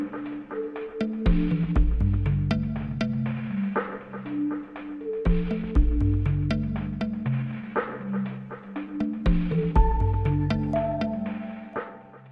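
A Minecraft music disc track from the video game plays alone as layered melodic notes over swelling low bass tones, steady and fairly loud throughout with no talking.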